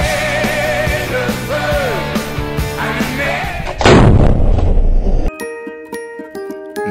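Artillery fire booms in a loud, heavy burst partway through, rumbling low and broad and then cutting off abruptly, with music and tonal sounds before and after.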